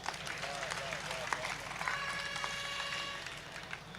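A crowd at a Hindi poetry recital claps in a continuous dense patter while a voice talks and sustained tones sound over it at a moderate level.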